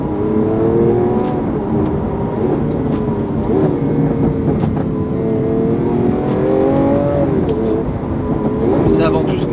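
A green Lamborghini Aventador S Verde Hydra with a single-clutch automated gearbox drones loudly and steadily, its engine note swelling and dipping through revs, close and continuous.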